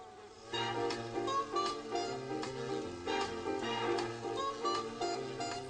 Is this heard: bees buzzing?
yes